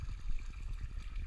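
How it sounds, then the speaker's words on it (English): Whopper Plopper lure with a spinning rear prop churning water on a steady retrieve, producing a fast, even series of soft plopping splashes, close and moderately quiet with no talking. "This is just a steady retrieve, which gives the action of the prop on the back splashing water around."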